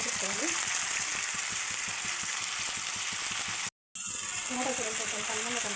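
Ginger garlic paste fries with cut tomatoes in a pan for a fish pulusu, making a dense, crackling sizzle with a short silent break and a voice talking over it.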